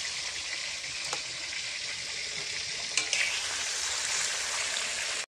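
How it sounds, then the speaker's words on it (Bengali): Fish frying in a pan during home cooking for a village birthday meal, a steady loud sizzle running continuously with a couple of sharp clicks near the middle, then cutting off abruptly at the end. "মাছ ভাজা হচ্ছে, এই যে দেখো।"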